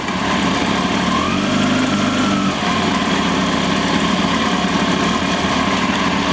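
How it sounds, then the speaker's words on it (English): A Kawasaki ZX-10R motorcycle engine idles steadily with a continuous low rumbling hum and vibration, close and loud, with no talking. "The bike's running."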